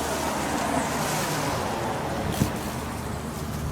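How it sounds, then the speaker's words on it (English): An inground lawn sprinkler spraying water in a garden corner, a steady broadband hiss of spray that holds constant throughout, fairly loud and close, with one brief knock partway through and no talk. "There is a sprinkler in the corner here that is spraying."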